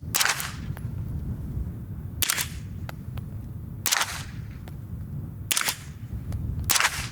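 Four suppressed shots from an Angstadt Arms Vanquish pistol-caliber carbine, each a sharp muffled crack with a short hiss, fired at roughly one-and-a-half-second intervals against steady outdoor background noise.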